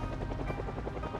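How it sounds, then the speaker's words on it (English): A helicopter's steady rotor chop thrums, loud and continuous, during the helicopter event in the video game Project Zomboid. "this is that part where the helicopter event is here."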